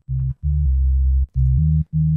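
A deep synthesized sub bass line made in FM8 plays in short, clean sustained notes, a rhythmic phrase of five or six tones with brief gaps, loud and alone.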